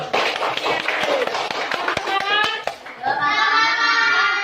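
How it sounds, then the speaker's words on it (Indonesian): Schoolchildren in a classroom clap their hands together, a quick run of sharp claps mixed with children's voices, then giving way to chatter and singing-like voices. "Tepuk tangan dulu."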